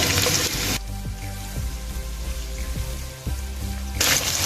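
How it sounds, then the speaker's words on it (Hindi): Chopped large onion frying in half a cup of oil in a pan, a steady close sizzle with soft crackles throughout and a few brief louder bursts at the start and end. "प्याज को फ्राई कर लेंगे जब तक ये गोल्डन ब्राउन ना हो जाए।"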